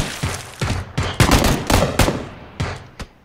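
Gunfire in PlayerUnknown's Battlegrounds cracks out in a series of sharp shots, some clustered into quick bursts and others spaced apart, loud and close with no talk.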